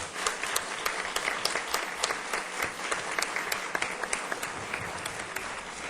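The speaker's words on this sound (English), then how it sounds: "Let's give them another round of applause." Sustained audience applause at a school board of education meeting, dense steady clapping from many hands filling the room for several seconds with no talk over it.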